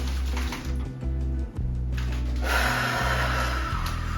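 A deep inhale through the nose during a seated chair stretching routine, a breathy rush rising midway and held, heard over a steady low background hum, with no talking.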